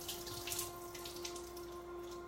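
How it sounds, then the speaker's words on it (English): Filtered tap water pours steadily over soaked almonds being rinsed, a soft continuous splashing and hiss with a faint steady hum underneath, close and alone. "So you just take it, rinse it out, and I usually rinse it twice."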